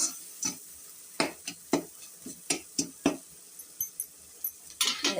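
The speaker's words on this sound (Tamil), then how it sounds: "நல்லா வதக்கி விட்டுருங்க." Chilli powder is sautéed in hot oil in a pan, with a steady run of quiet, close scraping and stirring clicks about twice a second over a faint sizzle, and no talk.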